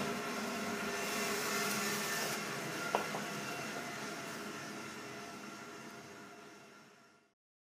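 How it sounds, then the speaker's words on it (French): An Objet Eden 250 3D printer runs a print job with a loud, steady, broadband whooshing whir and one faint click partway through. The noise slowly eases before cutting out near the end. "je peux démarrer tout simplement l'impression comme ceci"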